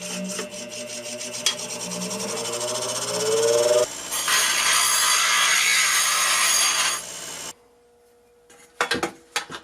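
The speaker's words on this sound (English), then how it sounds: "I'm just going to grind down the edge so it's not sharp." A metal bracket's sharp edge being ground down with a tool for a mini beer keg propane forge, a loud continuous rasping grind with changing pitch that cuts off, followed by a few clanks and handling noises.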